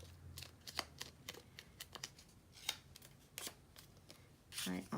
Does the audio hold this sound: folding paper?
yes